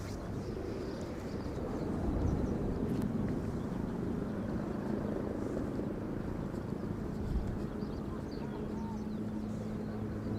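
A KLM Airbus A330-200 arriving at Schiphol Airport: a steady, distant jet roar that swells slightly and then holds, mixed with wind rumble and outdoor background.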